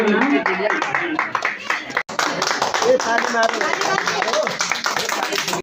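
People clap their hands at a Magar community gathering at the Nepal Magar main house. The clapping is dense and continuous, with a brief break partway through, and voices talk over it.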